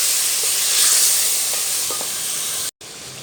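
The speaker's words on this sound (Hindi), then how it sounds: "अच्छे से भूनेंगे प्याज के अंदर 4 से 5 मिनट।" Mutton and onions frying in a pan, a steady loud sizzle and hiss with faint stirring clicks, broken by a brief dropout near the end.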